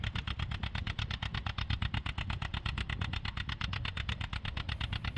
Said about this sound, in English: an old John Deere 730 that's been part of this farm long before